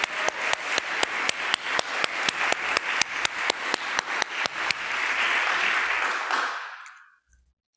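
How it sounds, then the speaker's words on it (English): Clapping for youth worship leaders at a church service starts as rhythmic, evenly spaced claps, then melts into a loud blur of free applause that fades out near the end. "So let's give them another round of applause."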